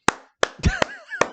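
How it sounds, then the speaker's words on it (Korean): Four or five sharp, close hand claps ring out at a real estate lecture, with a voice briefly sounding between them. "박수."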